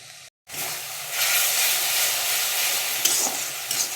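Spices hit hot oil in a pan for a home-cooked tarka, a brief silence then a loud rushing sizzle and hiss that swells and stays steady with faint stirring clicks.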